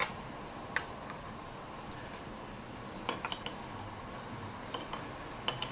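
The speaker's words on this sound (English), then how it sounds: "Give that a quick stir." A spoon stirs tea in a cup at an afternoon tea setting, giving light, sporadic clinks of metal against china with quiet pauses between and no talking.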